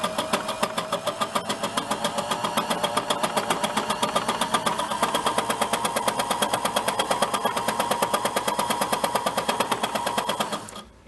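A fabric embellisher needle-punch machine runs continuously, pushing fabric through to ruche and ripple it, with a rapid, even mechanical chatter of punching needles holding steady for about ten seconds before stopping.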